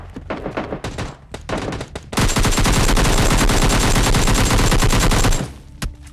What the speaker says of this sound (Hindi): उस तरफ गन शॉट की आवाज आ रही है